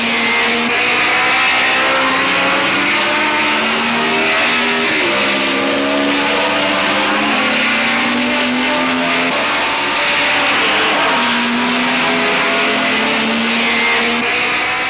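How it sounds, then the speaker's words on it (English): Grand Prix racing cars at Brands Hatch in 1964 roar past from a driver's-eye position, several engines howling together with rising and falling pitch through gear changes, loud and continuous without speech. "a driver's eye view of what Grand Prix racing means at Brands Hatch."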